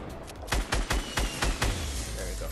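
Rapid bursts of gunfire from a Fortnite Battle Royale match, six or seven sharp loud shots in an uneven rhythm over steady game ambience, with no talking.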